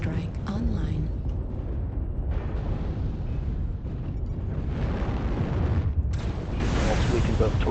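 Artillery strike explosions in the MechWarrior Online video game: dense, continuous rumbling booms and blasts fill the whole stretch at steady loudness, with game announcer voice lines layered over the battle noise.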